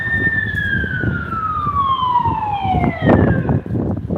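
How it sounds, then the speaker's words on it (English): Police car siren wailing in a city street, its tone sweeping slowly downward as it passes close and loud behind a moving rider, over steady traffic rumble. "Oh, we got a police car behind us."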